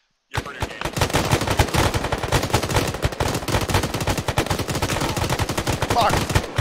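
A firefight in the military shooter game Arma 3: dense, rapid automatic gunfire with overlapping sharp cracks running almost continuously for several seconds, loud and close, with occasional voices buried underneath.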